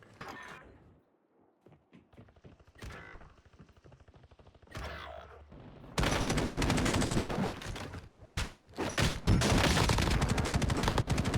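Gunfire in a battle royale video game begins as scattered cracks and mechanical clicks, then erupts into loud sustained bursts of automatic fire and rapid shots that run almost continuously to the end, with no talk.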